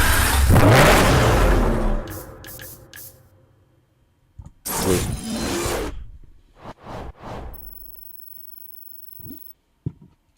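A Lamborghini Murcielago V12 roars in the racing game Need for Speed: Hot Pursuit, with loud bursts of revving separated by quieter gaps and short sharp engine blips near the end, with no talk.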